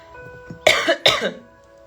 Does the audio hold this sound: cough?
yes